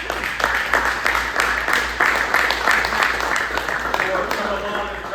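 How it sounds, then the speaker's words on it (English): Parents and guardians at a youth basketball awards night receive a round of applause, crowd clapping spread across the room with a low hum beneath and some voices mixed in. "I want you to give your parents and guardians a big round of applause"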